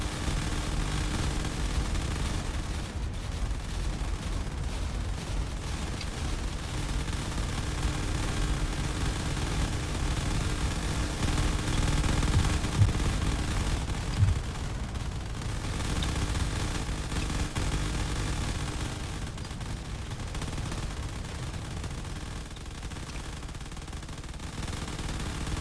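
Battleship and frigate weapons in the Drone Wars space game blasting away at close range, a continuous dense roar of rapid fire and explosions with no pauses, steady and loud throughout.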